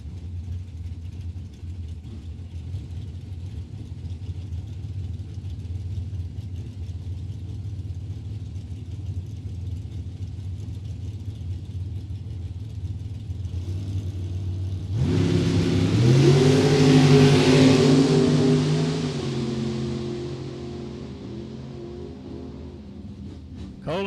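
Drag racing cars, a Chevy Camaro in the right lane, idling with low rumble before launching abruptly into a loud roaring run that fades off as they pull away down the strip at the World Super Pro Challenge.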